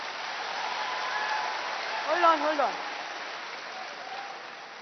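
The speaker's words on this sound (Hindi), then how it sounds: "इसके लिए ताली बजा रहे हैं" An audience at a stage mind-reading performance applauds in a steady, moderately loud patter of many hands, while a voice briefly speaks over the middle of the clapping.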